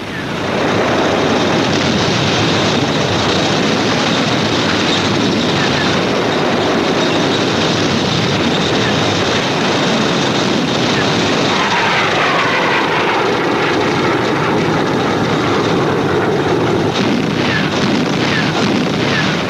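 Droning aircraft engines of attacking warplanes roar steadily and loudly over the battle for Berlin, a continuous dense rumble with a faint rising whine partway through.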